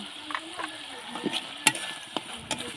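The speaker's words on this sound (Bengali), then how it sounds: "আমি এটাকে ভালো করে মাছের সাথে মিশিয়ে আর একটু ভালো করে একটু কষিয়ে নেব" Tomatoes and prawns stirred in a hot pan, a steady soft sizzle with scattered scraping clicks of the spoon against metal, close and moderately quiet, no talking.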